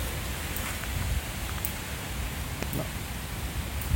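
Rain falling steadily outdoors by honeybee hives during a thunderstorm, an even broadband hiss with scattered drip ticks, close and continuous with no speech.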